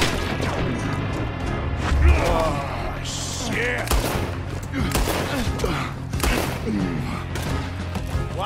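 Rapid gunfire crackles throughout a Red Dead Redemption 2 shootout, dense bursts of shots and sharp impacts layered close and far, mixed with shouting voices and game music.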